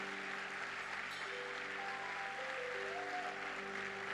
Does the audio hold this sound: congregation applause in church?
yes